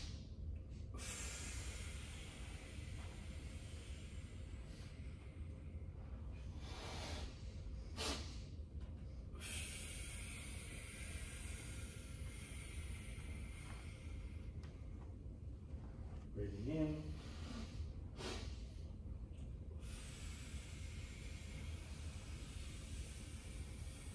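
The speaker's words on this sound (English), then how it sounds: "take a sharp, short burst all through the nose" A person takes sharp, short bursts of breath in through the nose as a breathing exercise. The sniffs are faint and come a few at a time among a steady background hum.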